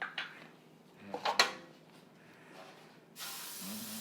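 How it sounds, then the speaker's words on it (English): After a few light clinks of kitchenware, a short burst of cooking spray hisses onto a pan for lasagna close by near the end. "I'm going to spray our pan."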